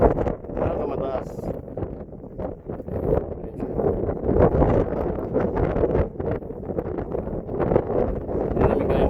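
Strong wind buffets the microphone in gusty, rumbling bursts beside a waterfall in Africa during a mountain bike ride, with people talking over the roar.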